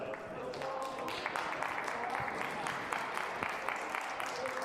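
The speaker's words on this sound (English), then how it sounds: "Let's give them one big round of applause for our last match." A crowd at a VEX Robotics tournament gives steady, dense applause that holds at an even level throughout, sounding like a large audience clapping together.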